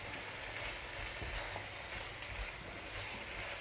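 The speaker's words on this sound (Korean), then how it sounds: "이렇게 양파 볶아주고" Onions stir-frying in a pan on a weak induction cooktop, a steady close broadband sizzle with faint scraping of stirring throughout, no voices.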